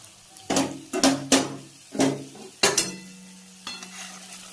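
Pitha batter is ladled into a pan and fries in hot oil. A continuous sizzle runs underneath several distinct metallic ladle clanks and scrapes that come at irregular intervals, close and clear.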